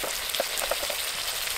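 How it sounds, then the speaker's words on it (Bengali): Onion paste and ginger paste frying in oil for a Bengali chicken dish, giving a steady, broad sizzle with a few small pops, close and continuous without any voices. "আদা বাটা দিয়ে দেব"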